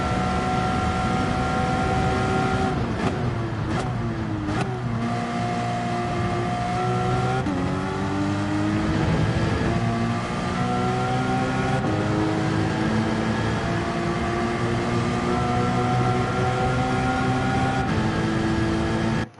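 A Gran Turismo 7 race car engine revs under partial throttle in C-rank racing. It is loud and unbroken, its pitch climbing and dropping through gear shifts, with no voices.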